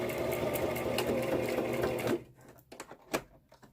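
A sewing machine runs steadily for about two seconds stitching the straight edge of an adult-sized fabric face mask, then stops and leaves a few soft clicks and handling sounds nearby.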